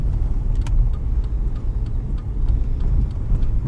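A 2000 Jeep Cherokee XJ Limited with a part-time transfer case rolls over a rough, bumpy Michigan road, heard from inside as a steady low engine and road rumble with faint rattles and knocks throughout.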